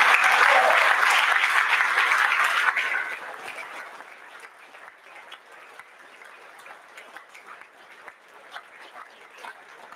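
Audience at a college scholarship awards ceremony applauds the recipients, a loud burst of clapping for about three seconds that quickly fades to scattered faint claps.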